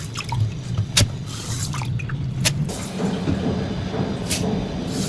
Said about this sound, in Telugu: పెసలు బట్టి ఇప్పుడు మిక్సీ ఆడాలి